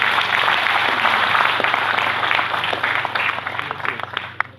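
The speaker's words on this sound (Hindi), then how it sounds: "थैंक यू सो मच कि आपने 4 लाख सुनने के बाद ताली बजाई।" An audience at a leadership training event applauds, a dense, sustained clapping that slowly thins out over a few seconds.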